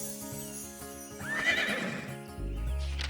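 A horse in the Star Stable video game whinnies in a rising call, with clip-clopping hooves and a steady music bed beneath, fairly close and clear.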